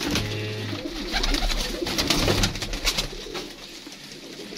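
Pigeons on a rooftop coo in low, repeated murmurs, a few soft calls rising over light background noise with no talking.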